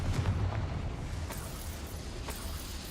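A Confringo blasting spell exploding in a Hogwarts video game, a dense rumbling boom that lingers as a low roar for a few seconds with faint crackles on top.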